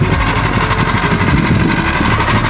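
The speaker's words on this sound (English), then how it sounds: "start your engine." A small kids' go-kart engine runs loud and close at a steady idle, with a dense buzzing drone and no voices.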